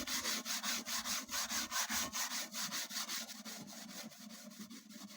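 Steel wool scrubbed back and forth over a rusty part, a steady rhythmic rasping with repeated strokes, loud and close at first and then easing slightly, with no talk.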